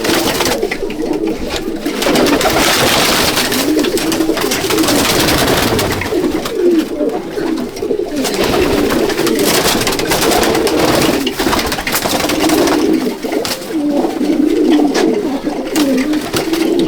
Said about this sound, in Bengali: সব রেগদার পায়রা, এই কালাঙ্কা পায়রা, সব মাদা পায়রা